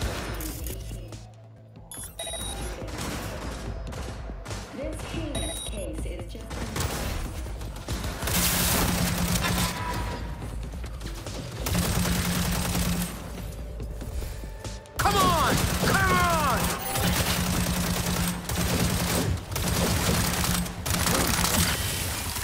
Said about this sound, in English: This assault rifle is insane!